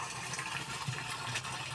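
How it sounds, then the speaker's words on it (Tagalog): Water pours steadily into a container on a farm, a continuous close rushing splash with no pauses. "Nagkakarga tayo ng tubig."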